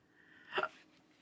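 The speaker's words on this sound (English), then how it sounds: "And I've got hiccups." A woman hiccups once while making paper ephemera at a craft table, a single short, soft gulping burst close to the microphone in an otherwise quiet room.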